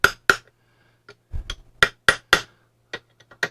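Metal taps and knocks while easing the snug-fitting overdrive brake ring out of a 1955 Triumph TR2 overdrive unit, a series of sharp separate clinks and light hammer-like strikes spaced irregularly, close and fairly loud.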